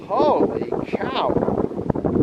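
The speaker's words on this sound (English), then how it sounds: "Yes, you're right, Scooter, it's quite windy." Wind buffets the microphone outdoors on Curaçao as a broad rushing roar, with a person talking over it throughout.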